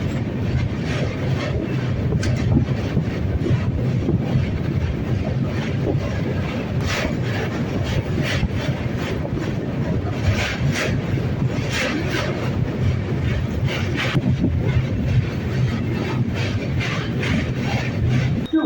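A passenger train bound for Varanasi rolls along with a steady, continuous rumble and faint rhythmic wheel clatter, heard from close by with no break in the noise throughout.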